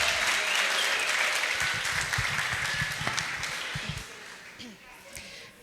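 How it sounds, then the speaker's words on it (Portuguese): A church congregation at a marriage-healing event gives a warm round of applause, dense clapping that gradually thins and fades, with voices talking faintly underneath. "Uma salva de palmas de novo, queridos"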